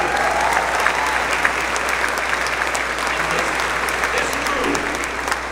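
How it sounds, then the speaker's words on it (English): An audience claps steadily through a talk about the Artemis II crew's journey around the moon. The dense, even applause continues throughout, with a faint voice or crowd murmur underneath. "Yeah, you can clap for that."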